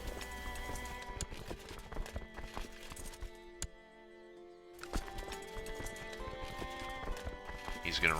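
Horse hooves clip-clop in the strategy game Crusader Kings II, a brisk steady clatter of hoofbeats with a brief pause midway, mixed with game music tones and a whinny.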